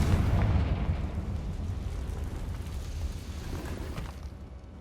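A Confringo spell explosion in Hogwarts Legacy leaves a loud rumbling blast that starts strong and slowly decays into a dense, fading roar of debris and ambience.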